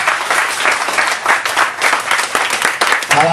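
An audience at a ceremony handing out success certificates to students breaks into loud, dense, sustained applause, close and continuous throughout, with a voice rising briefly at the end.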